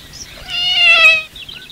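Cat giving a single drawn-out meow that rises and then falls, close and clear against a quiet background.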